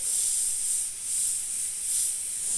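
An airbrush fitted with a fine 0.2mm needle sprays paint on a UV jellyfish artwork as a soft, steady hiss that swells and eases in short pulses, with no talking.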